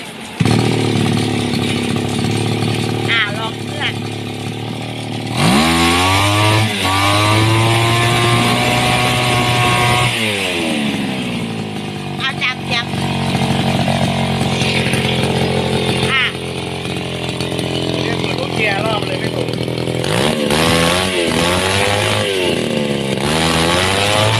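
A chainsaw engine with a freshly tuned carburetor and reed valve revs loudly and close, its pitch sweeping up and down in repeated rises and drops between high-pitched runs, with someone talking intermittently over it.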